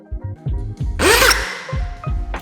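A power drill bores a hole into a BMW's boot, a burst of loud whining drilling lasting about half a second in the middle, framed by deep thumping background music.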